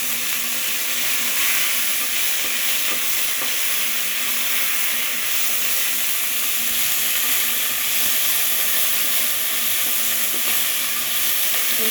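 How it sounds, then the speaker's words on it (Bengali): Moringa leaves frying in a hot pan for a rohu fish curry, with a steady, continuous sizzle and hiss under occasional stirring scrapes, close and even throughout, no talking. "এখন সজনে পাতাটা দিয়ে দিচ্ছি।"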